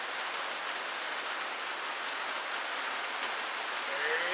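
Steady rain falls outside a trail shelter at Icewater Springs on the Appalachian Trail, a dense, even hiss of drops that stays constant throughout with no voices.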